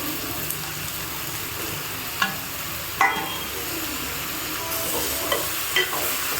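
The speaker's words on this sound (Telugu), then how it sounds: "ఇప్పుడు కాకరకాయలు వేసుకుందాం. ఇది కలుపుదాం. ఇప్పుడు టమాటా కూడా వేద్దాం." Bitter gourd and tomato fry in a pan for bitter gourd curry, with a steady sizzle and occasional sharp scrapes and clicks of a stirring spoon, close and with no voices.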